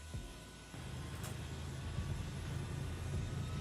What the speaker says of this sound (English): And now you can finally hear an engine.